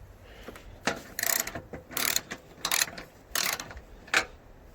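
Ratchet working loose the 10mm bolts that hold the fender on a 2013 Honda Civic LX, heard as bursts of clicking in several separate runs, close and fairly quiet, with no talking.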